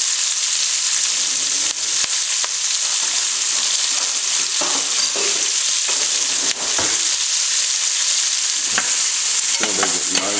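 Onions frying in a pan, a steady loud sizzle with scattered scrapes and clicks of stirring, running without pause and with no talking.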